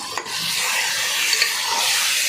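Chicken biryani masala is stirred in a pan with a steady scraping, sizzling hiss that runs continuously and close throughout, with no voices.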